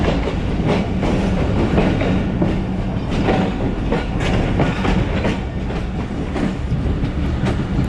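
The Thal Express, an all-economy passenger train from Rawalpindi to Multan, runs at speed, its wheels beating a steady clickety-clack over rail joints beneath a constant loud rumble, heard from on board with no voices.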